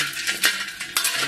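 Rock sugar stir-fried in a little oil in a wok to make caramel: a metal spatula scrapes and clinks against the pan in short strokes, with a soft sizzle underneath.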